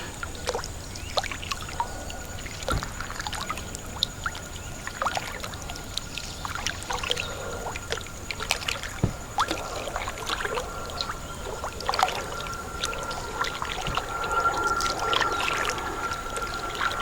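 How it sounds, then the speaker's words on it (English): A kayak paddles through water in a National Wildlife Refuge in Delaware, giving soft splashes, drips and trickles with quiet ambient tones in the background. The sound is steady and gentle throughout, with no talking. "First time kayaking in a National Wildlife Refuge."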